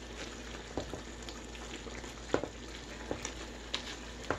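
A spoon stirs gravy into a mixture in a pan over low heat, giving a soft steady sizzle with a few sharp clinks and scrapes against the pan.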